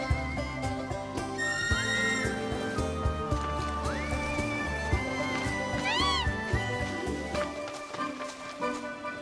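In Final Fantasy VII Rebirth, a chocobo is summoned by whistle amid a busy game score, with rising whistled tones, bird-like calls and trotting footfalls layered over the music.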